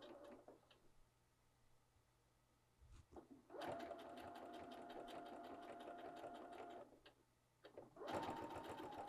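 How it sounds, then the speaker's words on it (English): A domestic sewing machine top-stitches a garment facing to its lining about 1/8 inch from a folded seam allowance, running in two long steady bursts with a short pause between them, close and clear. "I'm just sewing about 1/8 inch in from that folded seam allowance on the facing."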